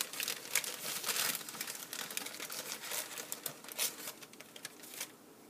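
Cinnamon raisin bread dough is rolled up on wax paper, giving soft continuous crinkling and rustling with small sticky crackles, close and quiet, with no talking.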